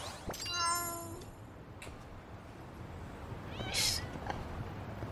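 Cats meow in the video game Lost Judgment: a few short, high meows come one after another, with a brief pause between them, quiet against faint game background sound.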